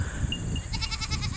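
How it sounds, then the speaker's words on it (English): Farm goats bleat in a short wavering cry outdoors on a cold day, fairly close and clear over low wind rumble, with no talk. "The goats are over there watching us."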